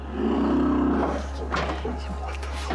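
Orphaned baby elephants inside small wooden huts in the dark give a low, sustained rumbling groan followed by rougher, broken growling calls, fairly close and loud.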